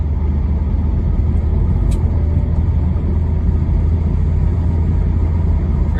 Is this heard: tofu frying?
no